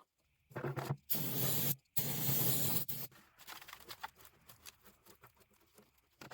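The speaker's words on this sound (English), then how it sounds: "let's see what else we can get out of there with our good buddy, Mr. Brake Clean." Brake cleaner sprayed from an aerosol can into a metal fuel tank, two loud hissing bursts close up, followed by quieter rattling and dripping.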